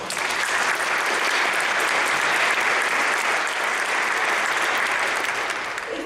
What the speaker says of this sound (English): Can we have another round of applause, please?